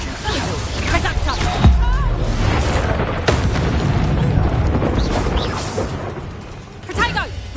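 Reducto spell blasts in the video game Hogwarts Legacy, booming explosive impacts with crashing debris, loud and dense, mixed with a voice shouting under and between the blasts.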